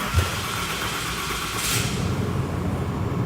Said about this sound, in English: then the Ram truck will start first